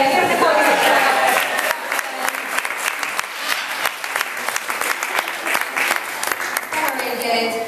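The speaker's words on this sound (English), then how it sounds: "Give the boys a clap." An audience claps at the Longleat parrot show, a close, lively burst of many hands that runs for several seconds and eases off slightly toward the end.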